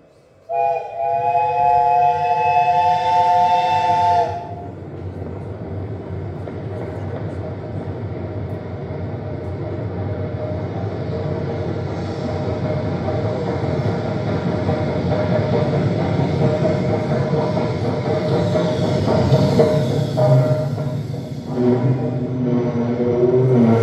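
A train sounds a tonal horn blast, then rumbles in steadily as its rolling noise builds and grows louder toward the end.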